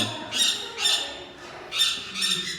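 Parrots squawk in a walk-in aviary, four or five loud, harsh, shrill calls arriving in bursts close by, with no talk over them.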